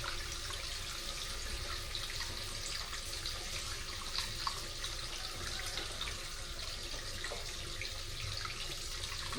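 Tap water runs steadily into a sink in a home kitchen while noodle soup is made, a continuous close splashing rush with no talking over it.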